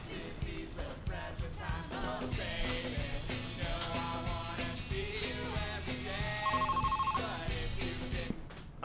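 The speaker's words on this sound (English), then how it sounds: "Ah, there's my phone, dude. I gotta take this." A telephone ringing amid a busy scene in a movie, with a ringtone chirp standing out over layered background sound and music.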